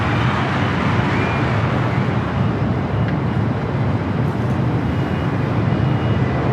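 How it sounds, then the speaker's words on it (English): A Delta Airbus A321neo arriving from Orlando roars at Los Angeles LAX airport, a loud, broad jet rumble that stays steady and close throughout, with no talking over it. "This flight coming up from Orlando, Florida. It's a Delta A321neo."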